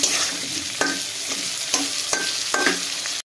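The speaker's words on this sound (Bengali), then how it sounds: "এই তো আলুটা এখন মশলার সাথে কষিয়ে নিচ্ছি।" Potatoes frying with spices in a pan, a steady loud sizzle broken by several sharp scraping strokes of a spoon as they are stirred, close up with no voices.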